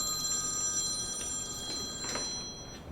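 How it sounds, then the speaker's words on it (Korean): A telephone rings in a hospital intensive care ward, with steady electronic tones holding over low ward background noise, and no talking. "네, 전화 왔습니다."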